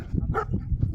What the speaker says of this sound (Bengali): এইখানে কুকুরটা ঘেউ ঘেউ করছে